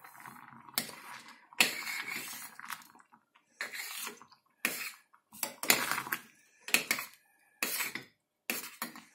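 A spoon stirs pumpkin porridge with rice and raisins in a pot, making bursts of scraping and clinking in an irregular rhythm with brief quiet gaps between strokes, close and moderately loud.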